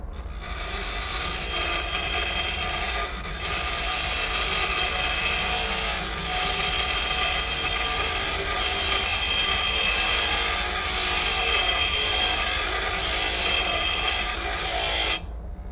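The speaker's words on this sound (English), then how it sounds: "I'll just keep using the bench grinder." A bench grinder grinds metal during a Dodge Charger crew cab restoration, giving a loud, steady, high-pitched whine and hiss that holds for about fifteen seconds and cuts off near the end, no talk over it.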